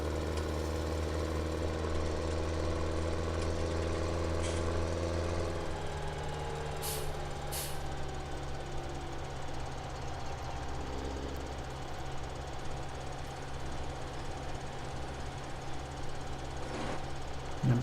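A tractor pulling an auger wagon in Farming Simulator 17 drones with a steady engine hum that drops in pitch partway through. Brief higher tones and a faint hiss sit over the constant rumble.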